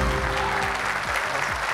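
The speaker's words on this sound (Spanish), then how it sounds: "Fuerte ese aplauso" A studio audience on the Spanish edition of the quiz show ¿Quién quiere ser millonario? breaks into loud, dense applause after a correct answer, with a low musical sting sounding underneath.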